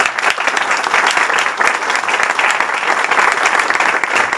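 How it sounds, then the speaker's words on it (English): Steady, dense applause from an audience at a software developers' meetup welcoming a speaker, loud and continuous throughout with no talk over it. "let's give him a big applause"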